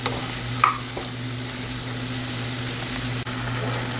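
Ground onion and tomato masala sizzles steadily in a pan with mutton for a mutton pepper curry, a continuous close frying hiss with a brief stir clatter near the start.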